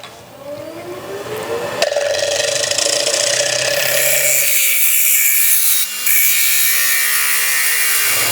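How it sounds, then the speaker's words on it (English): Steady, loud wood-cutting noise from a bowl gouge scraping a large spinning salad bowl on a lathe, a continuous broadband hiss with a brief dip near the end. "I could just use a negative rake if I wanted to make that easier, but I can just use the bowl gouge."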